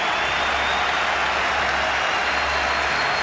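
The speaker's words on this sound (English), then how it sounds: "Gets good support from the Pindi crowd." Cricket crowd at Pindi applauds steadily as Sachin Tendulkar reaches fifty, a dense, continuous wash of clapping from a large stadium crowd, moderately distant and even throughout.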